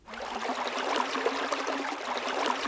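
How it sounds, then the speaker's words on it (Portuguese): Water flows steadily outdoors in a natural, wooded setting, a continuous soft rushing wash that rises after a brief start and holds, fairly quiet and with no talking. "Uau, som de água."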